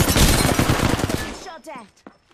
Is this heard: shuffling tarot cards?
no